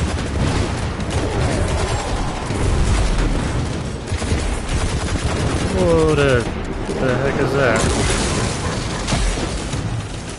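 Shotgun fire in Destiny 2, loud booming shots amid dense game noise and explosions, close and continuous, with a voice speaking briefly over it.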